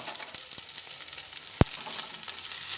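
Green chillies and ginger paste frying together in a pan, giving a soft continuous sizzle with one sharp clink of a utensil partway through and no talking.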